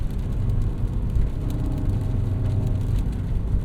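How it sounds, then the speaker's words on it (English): A new BMW M5 downshifting in manual mode: a steady, close engine drone and road hum inside the car, with the downshifts themselves not clearly standing out. "Gotta love manual mode though. Downshift a couple times."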